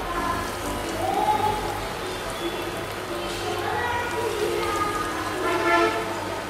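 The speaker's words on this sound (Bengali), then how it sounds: "এবার আমরা এক এক করে আলুর টিকিয়াগুলো তেলের মধ্যে দিয়ে দিচ্ছি" Potato tikkis slide one by one into hot oil, setting off a steady, dense sizzling hiss that swells and eases as each patty is added, close and fairly loud throughout.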